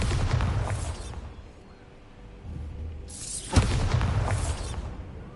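Bombarda explosion spell cast in the Hogwarts Legacy video game: a loud, rumbling blast that fades into a low lull, then a second booming burst with a sharp crack at its peak, rolling on heavily to the end.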